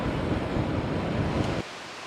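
Rushing water from a waterfall feeding a river with small stony beaches, a steady broadband roar that carries on for most of the moment, then drops abruptly to a softer wash near the end.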